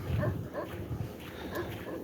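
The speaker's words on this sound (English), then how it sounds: "That dog hasn't shut up since I parked" A dog barks repeatedly some distance away, about 100 meters off, in short muffled yips and woofs over low outdoor background noise.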